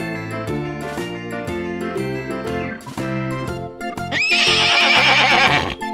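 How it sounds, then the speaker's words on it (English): A horse gives a loud, shrill whinny that rises and shakes near the end, over a bright, rhythmic musical backing with clip-clop and jingling sounds. "Horse."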